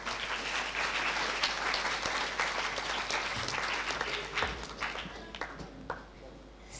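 Crowd at a children's naat recitation competition applauds a young reciter, a dense wash of clapping that holds steady, then thins and scatters toward the end.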